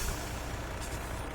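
A heavy truck idles in Farming Simulator 17, its low engine rumble running under a brief hiss of released air brakes, close and steady for a short moment with no talk.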